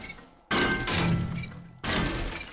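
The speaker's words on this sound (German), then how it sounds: "Und einmal schön den Beton knüppeln" A club pounds concrete in the zombie survival game 7 Days to Die, giving two loud, crunching impacts that break and shatter up close, each followed by a short ringing decay.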